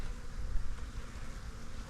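African bees swarm in a dense, continuous buzz at an opened hive, steady and close with no pauses.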